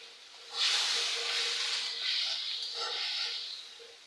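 A cooking stove lights with a sudden close whoosh, then settles into a sustained rushing hiss of burning flame that swells and fades slightly over a few seconds.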